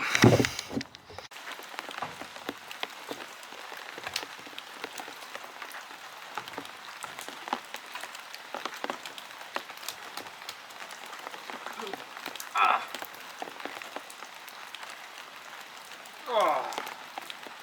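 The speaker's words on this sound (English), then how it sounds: "It's not even raining that bad right now." Steady light rain patters in a forest throughout, a soft continuous hiss of drops on surfaces, with a few louder scrapes and bumps nearby.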